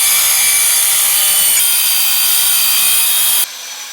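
Circular saw cutting into a wooden stump, a loud, close, continuous whining grind of blade through wood for about three and a half seconds before it cuts off abruptly.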